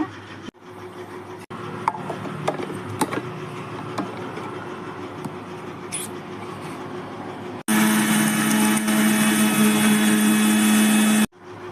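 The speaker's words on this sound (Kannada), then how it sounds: "ಆರಿದ್ಮೇಲೆ ಮಿಕ್ಸಿಗೆ ಹಾಕಿ ಪುಡಿ ಮಾಡ್ಕೋಬೇಕು" An electric mixer grinder grinds cooled, roasted masala into powder, cutting in with a loud, steady high whine for about four seconds before stopping abruptly, after quieter kitchen background noise.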